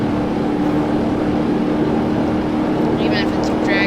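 A powerful custom engine drives a Gavril H-series van in the BeamNG.Drive video game, a steady close motor drone with brief chirps near the end.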